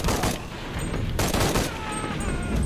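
Rapid gunfire during a firefight in the Shadow of the Tomb Raider video game, dense overlapping shots and bursts at close range forming a continuous loud fusillade with little pause.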